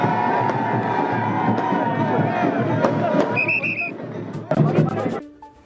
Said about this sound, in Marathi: शिवसेना कार्यकर्त्यांचा एकच जल्लोष